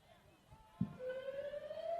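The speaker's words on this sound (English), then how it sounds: "There's the siren in the background" A siren wails faintly in the distance, its tone rising slowly, beneath crowd noise and background chatter at a junior rugby league match.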